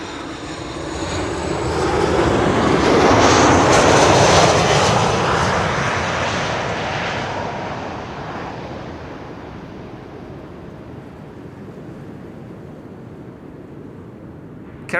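A KLM Embraer 175 jet lands on runway 06 at Schiphol, its engine roar swelling loud as it passes overhead, then fading slowly into a distant rumble.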